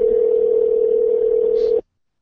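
A ringing tone comes through a telephone call to a store's tire and lube department. It is one continuous, loud, slightly buzzy tone that holds for just under two seconds and then stops abruptly into silence.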